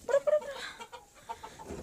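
Chickens clucking in a coop, with several loud close clucks and squawks up front and softer scattered clucking after, no talk.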